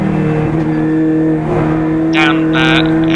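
Race car engine on a track during a Snetterton club race, a steady droning run with rising whine near the end, heard under ongoing commentary.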